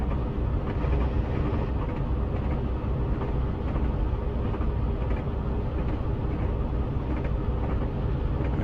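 Class 52 Western diesel locomotive accelerating in a train simulator on the Stranraer line, a steady loud engine rumble and rolling noise throughout with no talk.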